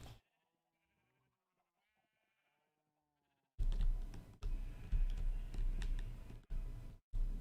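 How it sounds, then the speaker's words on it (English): Sheep in the video game Minecraft bleat in a few short, close, fairly loud cries, separated by brief gaps and following several seconds of near silence. "We still have a bunch of sheep that need to be sheared"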